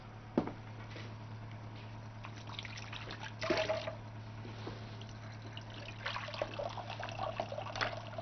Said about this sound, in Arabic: احط لك ميه في الطبق عشان الرز؟